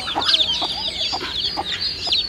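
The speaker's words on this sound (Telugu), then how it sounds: "ఇది మామూలు కోడి, నాటుకోడి." A country hen clucks in a quick run of short, close, fairly loud calls, with other fowl faintly chattering in the background.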